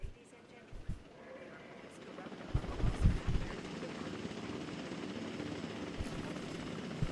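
A Jurassic World Evolution 2 airlift helicopter gives a low rotor thump and drone, with heavier beats building midway and continuing under faint background sound.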